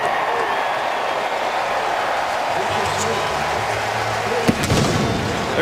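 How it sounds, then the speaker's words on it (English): Tampa Bay Buccaneers stadium cannons fire after a field goal during a December 2014 NFL game against the Green Bay Packers: one sharp boom with a rumbling tail cuts through the crowd roar while a commentator keeps talking. "There go the Cannons."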